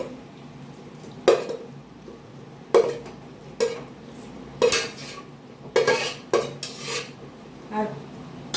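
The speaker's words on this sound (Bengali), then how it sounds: "ট্রান্সফার করে নিচ্ছি পুরো মাংসটা।" Cooked mutton for Dhaka-style tehari is scooped from one pot into another, with repeated metal spoon scrapes and clanks against the pots at irregular intervals, loud and close, without talk.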